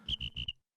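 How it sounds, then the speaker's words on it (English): A short burst of cricket-like chirps, three quick pulses and a fourth clipped one after a brief gap, close and alone. "you can put in crickets here."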